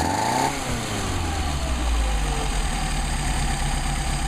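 A 1962 Mercedes 190SL engine running on Solex carburetors idles steadily and loudly close by, settling from a slightly higher speed into an even, continuous low rumble.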